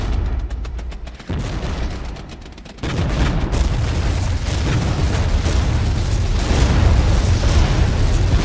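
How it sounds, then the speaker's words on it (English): A guided A-10 airstrike in the Regiments video game sends a heavy rolling barrage of booming explosions, loud and continuous, swelling after a short lull into a sustained rumble with no talk. "Bring in that A-10 guided strike."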